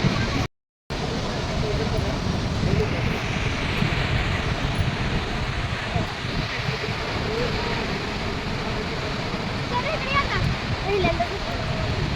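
A constant rushing roar of falling water fills the scene, loud and steady, with a brief dropout near the start and faint voices underneath.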